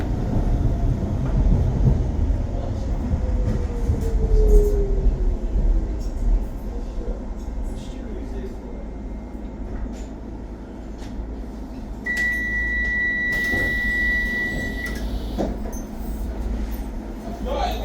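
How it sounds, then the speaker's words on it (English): A London DLR light rail train runs between stations toward Beckton, with a steady low rumble and rolling noise throughout, a descending whine early on and a sustained high tone later in the ride. "This is a DLR service calling all stations to Beckton."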